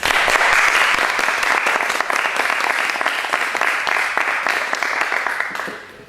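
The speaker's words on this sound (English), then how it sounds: "So please give a round of applause for Mark Silverberg." A university audience applauds a guest speaker, Mark Silverberg, at a lecture on Saudi Arabia and terrorism, loud dense clapping that gradually thins and fades toward the end.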